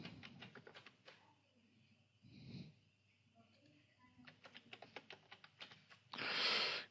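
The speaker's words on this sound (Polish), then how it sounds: "jakieś hasełko sobie wpiszmy" A password is typed on a computer keyboard during a Joomla website installation, producing quiet, quick key clicks in short bursts with a pause in the middle, faint against a soft room hiss.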